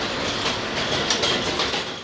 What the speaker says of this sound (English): On the night train bound for Manhattan